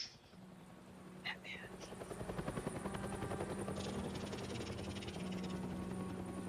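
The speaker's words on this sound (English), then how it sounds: "That's my helicopter sound." A helicopter from the Batman: The Telltale Series video game gives off a steady, whirring rotor drone that swells slightly and holds, with a brief faint sweep early on.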